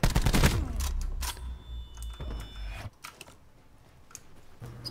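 Gunfire in the video game Call of Duty Black Ops, a loud dense burst of rapid shots in the first three seconds, followed by a few scattered fainter shots.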